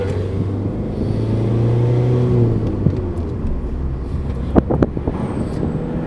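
A car engine rumbles and rises in pitch as it accelerates during a driving test route in France, with wind buffeting the microphone and a few short knocks near the end.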